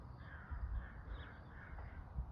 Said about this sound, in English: I'm just listening to bird song